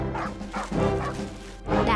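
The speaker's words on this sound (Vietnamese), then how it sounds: "Thôi chết, nhà này có chó dữ lắm," A cartoon dog in a Vietnamese animated folk tale gives a few loud, close yapping barks in quick bursts, one at the start and another at the end, with a whimpering tone between them.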